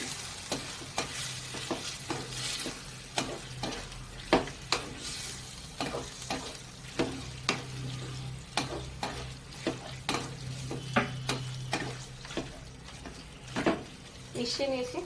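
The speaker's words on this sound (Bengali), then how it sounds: "এবার চিকেন কিমা দিয়ে দিলাম, দিয়ে ভালো করে মশলার সাথে মিশিয়ে নেব।" Chicken mince frying with spices in a pan while being stirred, a continuous sizzle broken by frequent scraping and knocking strokes of a spoon, close and moderately loud, with faint voice in the background.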